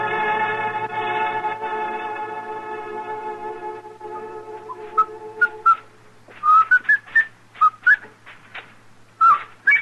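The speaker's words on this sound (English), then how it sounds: "If you insist, insist on whistling, would you mind doing it outside?" A man whistles a tune in a radio western, with a few short melodic phrases breaking into clear, loud, separate notes after a sustained chordal music passage fades out.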